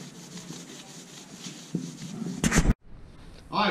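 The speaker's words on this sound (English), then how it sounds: "got the headboard sanded, ready to go" Wooden headboard boards are sanded by hand, producing steady close rubbing strokes that grow louder near the end, followed by a brief gap and then more scraping.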